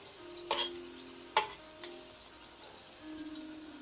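Octopus tentacles sizzle quietly in a hot pan after being flipped. A low, steady frying hiss runs under a few sharp utensil clinks and taps.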